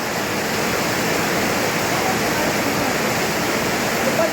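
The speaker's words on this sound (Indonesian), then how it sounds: "Oh, lebat hujan ya?" Heavy rain pouring down in the city centre of Pangkalpinang, a dense, constant roar of falling water that stays loud and even throughout with no pauses.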